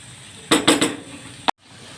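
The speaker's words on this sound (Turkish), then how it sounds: "Şöyle makarnamızı tekrar bir karıştıralım." A spoon stirs pasta boiling in a pot, giving three quick metallic knocks and scrapes followed by one sharp clink against the rim, close and alone.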